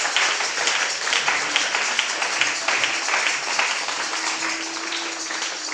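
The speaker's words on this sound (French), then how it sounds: "Acclamez pour vous-même, acclamez pour vous-même." A church congregation applauding and cheering, with a dense, sustained wash of clapping and voices filling the room at a steady level throughout.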